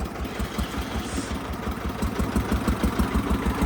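An old modified DT 14 tractor engine runs with a steady low thumping idle and regular knocking pulses, close and continuous throughout.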